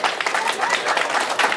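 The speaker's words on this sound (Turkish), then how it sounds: "Kendisine kuvvetli bir alkış istiyoruz." Crowd applause at a Turkish lamb-shearing festival award in Beytüşşebap, a dense, steady wash of many hands clapping at close range, sustained throughout without a break.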